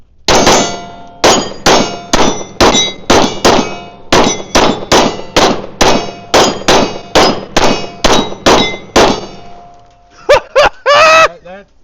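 A Smith & Wesson M&P 2.0 pistol shooting 135 Summit City loads fires about twenty sharp, loud shots in a steady rhythm, each ringing with a metallic clang, followed by a brief voice at the end.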